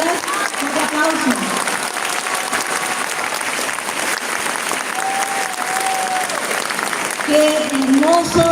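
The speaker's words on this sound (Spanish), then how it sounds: "Un fuerte aplauso" A gathering at a talk by a priest applauds loudly and continuously, dense clapping from a close crowd, with a voice speaking and some melodic sounds rising over it at times.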